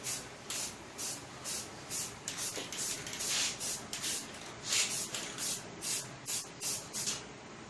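Light coats of spray paint go onto the wheels of a 1959 Riverside scooter in a series of short, hissing bursts, with about a dozen separate sprays at a close, even volume and brief pauses between them.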